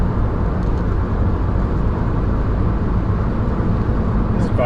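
Steady, loud road roar fills the cabin of a rust-holed Ford Puma cruising at 70 mph, a continuous low rumble with no breaks and no talking.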